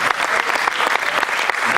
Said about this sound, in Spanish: Denle un aplauso al Señor, mis amados hermanos